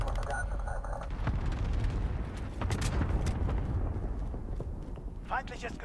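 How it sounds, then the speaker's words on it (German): A cluster strike in Call of Duty Modern Warfare, a rapid chain of booming explosions rolling across several seconds amid game effects, with a voice speaking over the blasts. "Feindlicher Clusterschlag im Anflug"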